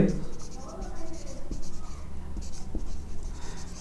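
Pen or marker writing out a binomial expansion math problem using Pascal's triangle, steady scratchy strokes running throughout with a person talking over them.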